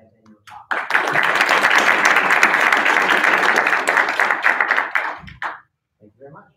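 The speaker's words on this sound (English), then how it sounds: "another round of applause for the panelists" A round of applause for the panelists at a live interviewing-advice talk event: steady audience clapping for about four seconds, tapering with a few scattered claps, and brief talk near the end.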